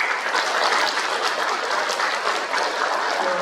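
Hearty applause from an audience at a Korean peace and unification college event, a dense, close, continuous wash of clapping lasting a few seconds with no speech over it.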